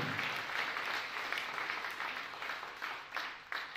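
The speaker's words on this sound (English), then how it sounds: "can we give Jesus a clap of praise?" A church congregation at a Sunday service claps together in a sustained round of applause, steady and somewhat distant, filling the room for a few seconds.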